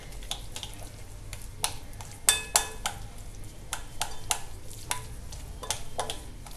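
Chicken tikka marinade with ghee whisked vigorously in a bowl, a close series of quick irregular clicks and scrapes as the whisk strikes the sides, with no voices over it.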